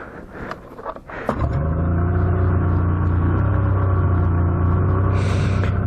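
A Yamaha SX Viper snowmobile engine starts up with a few rough bursts and then settles into a loud, steady, close-up droning hum that rises slightly near the end as the ride begins.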